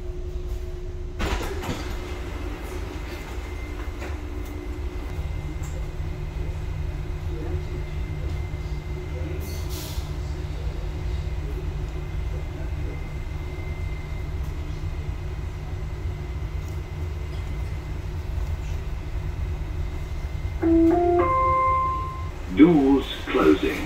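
A Dubai Metro Red Line train rumbles steadily from inside the carriage, running between Ibn Battuta and Business Bay stations. A low, continuous hum fills the car, voices are heard, and a few brighter tonal sounds rise near the end.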